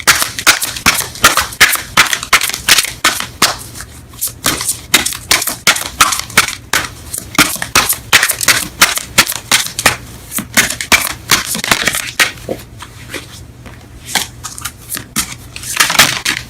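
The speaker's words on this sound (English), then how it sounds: "Let's pull up some Romance Angels cards for you guys." A deck of Romance Angels tarot cards being shuffled, a rapid, steady run of crisp card clicks and riffles, close and fairly loud, continuing with brief pauses throughout.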